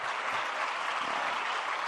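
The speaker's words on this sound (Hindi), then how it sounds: "जरा जोरदार तालियां बजा दीजिएगा।" Loud applause from an audience at a religious discourse gathering in Agra, a steady, even roar of many hands clapping with no pauses, somewhat distant.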